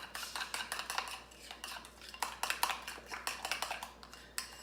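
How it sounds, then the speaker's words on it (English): A utensil stirs Polish cucumber salad with sour cream in a bowl, making rapid rhythmic clinks and scrapes in quick bursts, close and fairly soft. "Next thing we're going to do is we're going to mix this together."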